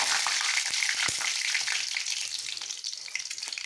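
Garlic cloves fry in a pan for a pumpkin curry, giving a steady, close hiss and crackle with a few sharp pops near the start. It eases off slightly toward the end, and nobody speaks.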